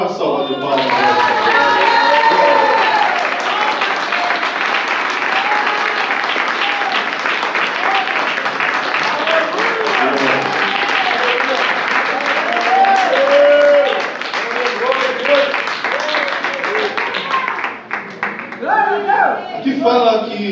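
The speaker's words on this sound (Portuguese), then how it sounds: "Dê a melhor salva de palmas." A church congregation applauds together in a long, dense wash of clapping with voices mixed in. It holds steady and loud for most of its length, then thins out near the end.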